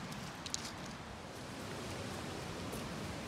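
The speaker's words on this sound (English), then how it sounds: "You can probably hear the falls in the background." Linton Falls, a waterfall pouring over a river weir beside a riverside path, makes a steady, dense rushing wash heard from a short distance, constant and unbroken throughout with no voices.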